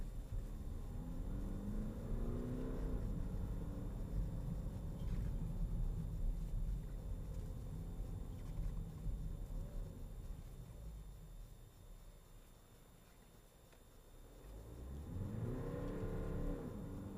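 A BMW 2 Series Gran Tourer with a 2-litre 150 hp diesel accelerating in manual mode, heard from inside the cabin as a steady engine drone that rises, eases off, then climbs again.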